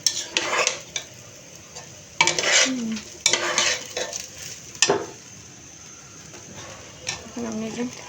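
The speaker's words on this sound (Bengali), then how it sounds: "একটু ভালো করে ভাজবো" Spices frying and being stirred in a pan for vegetable khichuri, with scraping spoon strokes in separate bursts over a soft sizzle and a voice talking now and then between them.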